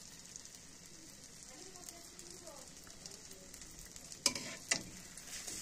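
A fried egg crisping in oil gives a soft, faint sizzle, with a brief murmur of voice partway through and two sharp scraping clicks near the end.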